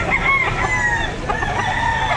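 Chickens cluck and a rooster crows nearby at a chicken market in Batangas, short overlapping calls from several birds over a busy background murmur.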